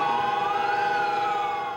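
Sirens wail across Warsaw on the anniversary of the Warsaw Uprising, a sustained, slowly rising and falling tone with layered harmonics, loud and continuous with no voices.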